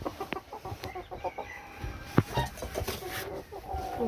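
Bearded d'Anvers bantam chickens, including a Millefleur hen, clucking nearby in short scattered calls with a few sharper squawks among soft rustling and background noise.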